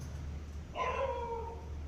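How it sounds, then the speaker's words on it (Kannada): A dog's short whimpering cry rises in a faint room, a single plaintive whine lasting about a second over low background hum. "ನಾಯಿ ಬೇರೆ ಅಳ್ತಾ ಇದೆ"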